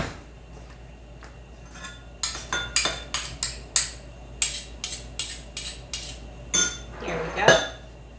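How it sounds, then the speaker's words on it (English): A metal spoon repeatedly scrapes and clinks against a pan while cooking for pork and shrimp lumpia, a rapid series of sharp, close knocks and scrapes over a quiet background. "I need a spoon to scrape that off"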